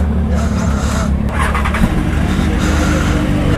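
A motorbike engine runs steadily close by, a continuous low rumble with harmonic drone and slight revving, no talk over it.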